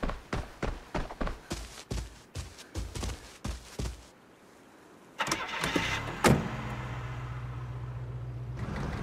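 Car engine in the video game Arena Breakout, heard after a run of sharp rhythmic knocks: the engine catches with a brief high whine, then settles into a steady, fairly loud idle or drive hum held to the end.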